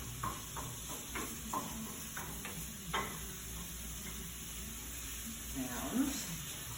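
Ground meat browning in a pan, seasoned with onion soup mix, gives a soft steady sizzle with a few light scraping stirs and clicks of a utensil, faint under a constant background hum.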